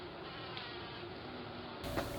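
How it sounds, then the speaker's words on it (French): A carpenter bee, Xylocopa fenestrata, buzzes steadily close by in a vegetable greenhouse, a continuous droning hum for about two seconds with no talk. "C'est le xylocope, Xylocopa fenestrata,"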